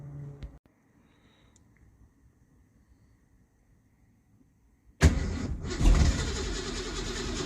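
Car engine with a freshly repaired carburetor choke and an emptied carburetor, cranking and catching: near silence, then a loud burst at about five seconds that swells into a steady roar to the end.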